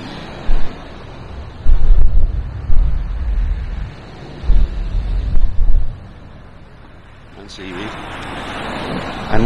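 Gusty wind buffets the microphone on a beach, coming in heavy rumbling bursts that rise and fall over a steady roar.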